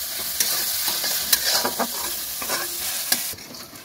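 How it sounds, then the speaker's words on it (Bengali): Chopped onions sizzle in a pan while being browned for a duck dish, a constant close frying hiss broken by repeated scraping and tapping strokes of a stirring utensil, no voices present. "ভালো করে লাল লাল করে ভেজে নেব।"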